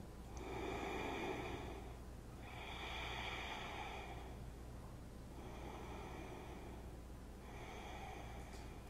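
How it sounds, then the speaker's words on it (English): Slow, deep breaths drawn during a seated yoga practice, rising and falling in a steady rhythm of about four full cycles, close and soft with no talking. "return to your sense of slow, deep, even breathing"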